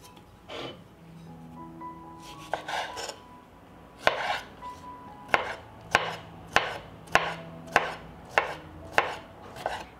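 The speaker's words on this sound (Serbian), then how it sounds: "I iseckat ću 3 kisela krastavca sitno." A knife finely chops pickled cucumbers on a board: a few soft scattered cuts, then a steady run of crisp, evenly spaced thuds close up, with no talking.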